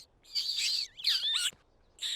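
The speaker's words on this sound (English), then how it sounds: "are we gonna help this baby bird or what?" A cartoon baby bird gives high, clear chirps close up in three short bursts, with warbling pitch slides in the middle burst and quiet pauses in between.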